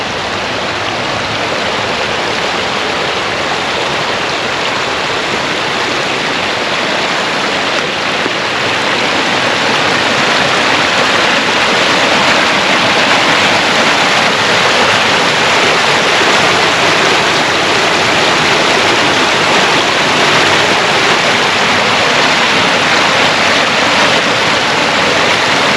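A creek flowing steadily through a wooded nature preserve, heard as a loud, continuous broadband rush of water running unchanged throughout with no voices.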